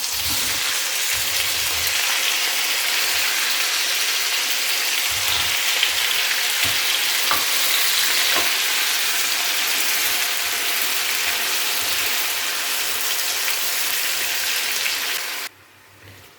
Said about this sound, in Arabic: وهكا كنبقاو نحركو باش التفاح كله يتكراميليزا